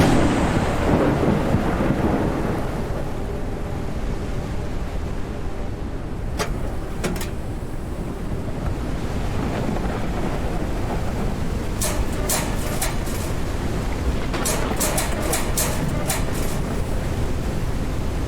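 Heavy rain pours steadily in the video game Forever Skies, with a deep rumble of thunder running underneath and a few sharp cracks and clicks scattered through, loud and continuous.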